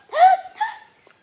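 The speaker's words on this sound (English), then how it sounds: "Okay, so it's your hiccups" A single loud, close hiccup, a sharp voiced gulp followed by a softer trailing catch.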